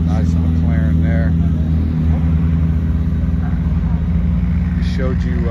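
A McLaren sports car at a concours d'elegance show runs with a steady low engine rumble close by, while people talk over it and brief higher whines rise near the start and end.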